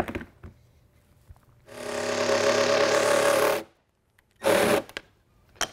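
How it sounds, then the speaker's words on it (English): A jigsaw cuts through wood for a workbench shelf. It makes a loud, close buzzing burst of about two seconds, goes quiet, then gives a second short burst, with faint handling noises in between. "I'm gonna go ahead and cut this out with my jigsaw."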